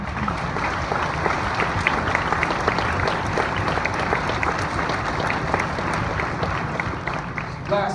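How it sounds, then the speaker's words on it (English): Audience applause after a Missouri All-State Band concert fills a large hall, a dense, steady wash of clapping from a big crowd that holds at even loudness throughout. "Can you get a round of applause for that?"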